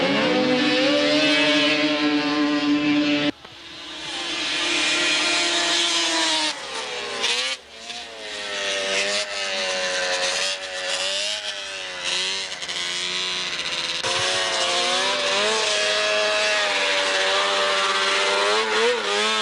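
Snowmobile sleds, one a Yamaha, scream across a grass drag strip in a 1988 racing heat, loud two-stroke engine wails rising and shifting in pitch, sustained throughout with a brief drop as sleds pass.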